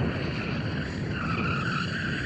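A BMW M3 xDrive in rear-wheel-drive mode squeals its tyres while warming them, giving a loud, continuous close screech with rumbling engine noise beneath.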